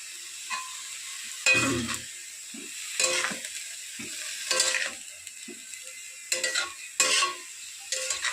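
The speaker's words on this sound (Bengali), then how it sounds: "এটা নেড়ে চেড়ে ঢাকা দিয়ে দেবো" Finely chopped spinach with salt and turmeric is stirred in a pan: close, scattered bursts of scraping and sizzling, separated by brief quiet gaps.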